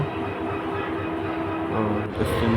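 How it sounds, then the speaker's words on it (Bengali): A passenger train bound for Cox's Bazar rumbles steadily, as heard from inside a carriage. The low drone is continuous, with faint tonal hums and a brief rise in noise near the end. "আমরা ট্রেনে উঠে গিয়েছি এখন কক্সবাজারের উদ্দেশ্যে"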